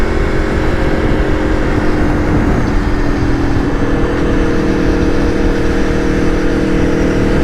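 An Aprilia Tuono V4 1100 motorcycle engine drones steadily at a loud, sustained pitch throughout, with slight shifts in tone as it revs and pulls, heard up close with no talking.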